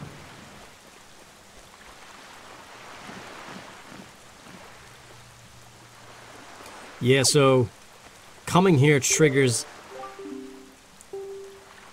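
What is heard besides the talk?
endless rain on the cursed island in Zelda: Wind Waker HD video game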